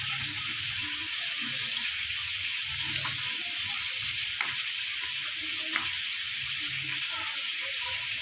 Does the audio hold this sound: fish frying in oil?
yes